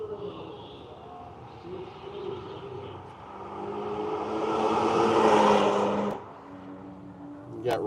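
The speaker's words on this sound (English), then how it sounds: "Here's the Forsyth Supra" A Toyota Supra race car runs on track during the Tire Rack One Lap of America at World Wide Technology Raceway. Its engine swells as it nears, peaks loudly, then fades, with voices talking in the background.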